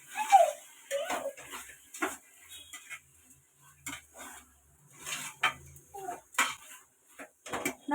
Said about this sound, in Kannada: ಶುಂಠಿ ಬೆಳ್ಳುಳ್ಳಿ ಪೇಸ್ಟ್ ಹಾಕಿ ಮಿಕ್ಸ್ ಮಾಡ್ಕೊತಾ ಇದ್ದೀನಿ.